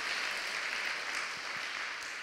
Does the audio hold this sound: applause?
yes